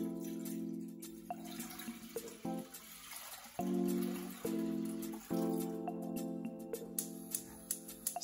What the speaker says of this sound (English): pour over the soy milk